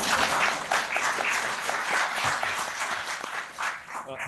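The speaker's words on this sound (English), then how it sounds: "thank you for the applause" An audience at an annual town meeting applauds the newly elected mayor, Councillor Darren Smith, with a sustained round of clapping heard from across the room, steady throughout before easing slightly at the close.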